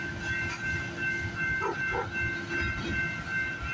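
CPKC freight train passing, a continuous rumbling roll of rail cars with a steady hiss, fairly close and alone, with a couple of faint brief tones in the middle.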